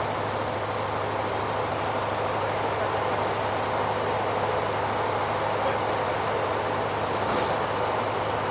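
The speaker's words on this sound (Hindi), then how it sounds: "भाई ये है अपना सिलीगुड़ी साइड का WDP4 लोकोमोटिव जो कि अभी कपल हो रहा है अपनी राजधानी एक्सप्रेस में।" A WDP4 diesel locomotive coupling onto a Rajdhani Express at a station, heard as a steady, loud broadband rumble with a constant low engine drone throughout, no distinct clank standing out.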